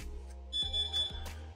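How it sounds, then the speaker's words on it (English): Door alarm at a home's front door sounding a few steady, high electronic beeps in quick succession, moderately loud over low background hum. "I apologize if you guys are hearing those beeps there in the background."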